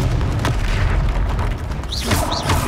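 Confringo blasting spell going off in the Hogwarts Legacy video game, a loud booming burst over steady game noise, with a couple of brief whooshing magical tones following near the end.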